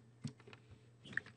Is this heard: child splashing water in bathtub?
no